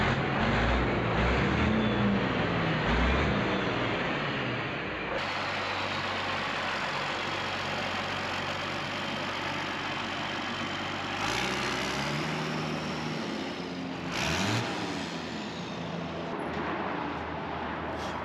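A 6x6 monster tow truck's engine runs steadily and loud throughout as the build rolls out, a continuous low rumble with a shift in tone partway through and brief surges near the end.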